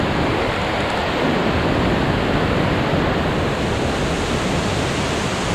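Rhine Falls in Schaffhausen, Switzerland, Europe's largest waterfall, sends up a dense, continuous roar of rushing water, loud and unbroken from start to finish, with no one speaking.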